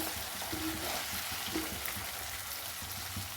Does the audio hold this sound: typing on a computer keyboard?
no